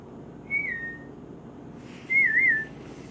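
A person whistles twice to call a cat, first a short rising-falling note, then a wavering trill, each clear and close against a quiet room.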